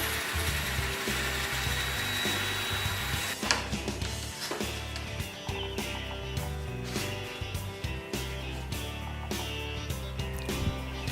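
A power tool whirs continuously and loudly with a rough, grinding edge as it cuts through cork, with no voices.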